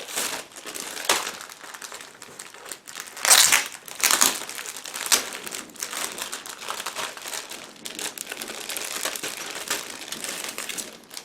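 Plastic bag holding three sprues from an Eduard 1/48 Mirage IIIC model kit being opened, with close, loud crinkling and crumpling bursts that keep going the whole time and peak in a sharp rustle early on.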